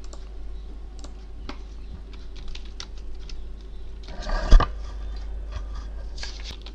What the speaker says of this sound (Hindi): और अब हम टाइप करके देखते हैं।